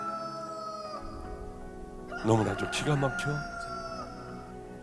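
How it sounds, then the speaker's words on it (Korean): A rooster crow sound effect rises briefly during a church sermon, heard over a sustained musical backing while a voice speaks at the same moment. "바로 닭울음 소리가 들려요."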